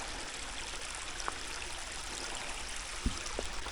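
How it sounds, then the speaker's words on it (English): Steady, soft rush of flowing water from a stream near the top of Abbotts Falls in Olney State Forest, continuous throughout with a few faint splashes and trickles. "a bit of water falling through"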